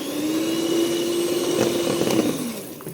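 An electric mixer whirs through oat flour for a chocolate cake, a steady motorised drone with a wavering pitch that slows and drops away near the end.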